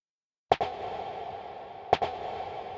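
Two sharp, distorted snare hits, lows and highs cut and around 750 Hz boosted, a second or so apart, each trailing into a long, boxy midrange reverb wash.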